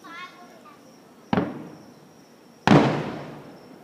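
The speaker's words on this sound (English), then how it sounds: "Watch the fireworks." Fireworks bursting outdoors during a fireworks display, with two sharp loud booms a little over a second apart, each trailing off into a crackling decay, after a brief voice at the start.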